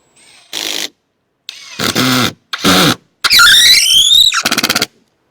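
Power driver whirring in several short bursts as screws are driven into a DIY hidden door, ending in a longer rising whine with rapid stuttering clicks, loud and close with pauses between bursts.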